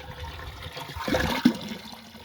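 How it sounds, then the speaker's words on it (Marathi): Tap water rushing into a household water tank, a close, swelling gush of running water that builds and peaks before easing off. "आता टाकं भरणं चालू आहे"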